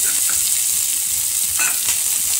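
Crushed ginger sizzles in hot oil with fried panch phoron five-spice, a dense, continuous frying hiss that stays loud and even for the whole short stretch, with faint stirring noises.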